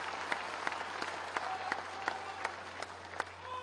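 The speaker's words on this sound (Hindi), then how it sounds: "एक बार जोरदार तालियों के साथ स्वागत हो रहा है" An auditorium audience at a civic felicitation ceremony in Jaipur claps for a welcome, a dense, steady round of applause with sharper individual claps standing out, moderately distant.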